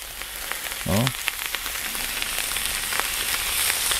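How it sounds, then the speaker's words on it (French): A beef rib steak sears on a hot plancha, giving a steady, close crackling sizzle throughout, with a brief clatter near the start. "donc je pose ma côte tranquillement, tranquillement, je vais la laisser colorer gentiment"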